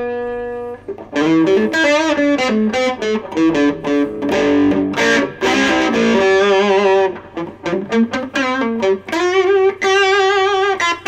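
A distorted Squier Sonic Mustang electric guitar plays a run of notes and chords, loud and gritty, with quick plucked attacks and a few sustained tones.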